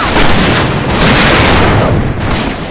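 A grenade explodes in the video game A.V.A with a loud, sustained, broadband blast that roars and rumbles for a couple of seconds.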